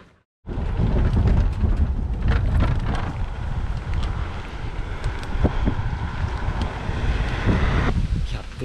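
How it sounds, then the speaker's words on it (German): A strong tailwind buffets a cyclist riding outdoors, making a loud, continuous rumbling roar of wind against the microphone that starts abruptly and persists without letup. "der Rückenwind, der pustet mir schon die ganze Zeit in den Rücken"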